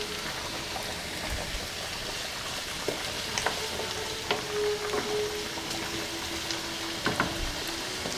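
Potatoes frying in a pan for Persian green bean stew, a steady soft sizzle with occasional crackles and light clinks, close and moderately quiet, with no talking.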